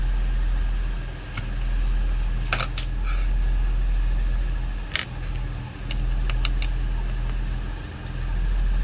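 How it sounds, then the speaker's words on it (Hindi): The blower fan motor of a 2008 Lexus IS300 runs with an abnormal noise, a steady whirring hum with low rumble, broken by a few sharp clicks and ticks. "ये सही है क्योंकि पंखा काम कर रहा था लेकिन साउंड है"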